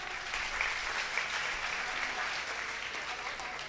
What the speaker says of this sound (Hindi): थोड़ी एक बार तालियां पूरे मन से बजा दो